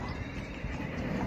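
A seven-year-old mare, three months pregnant, whinnies loudly and continuously over a dense, noisy outdoor background, with no speech.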